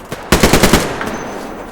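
A short, loud burst of rapid airsoft fire rattles out at close range during a fort battle, about half a dozen quick cracks in a row after a single lead shot, then trailing off into a lighter pop or two.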